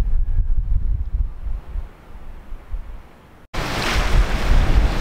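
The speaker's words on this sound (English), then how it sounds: "Judging by the waves out there and the rolling sea, it looks like we're getting weather" Rough sea waves rolling near a coastal key ahead of incoming bad weather, a loud continuous surf wash heavily buffeted by wind noise on the microphone, with a brief dropout before the roar returns even stronger.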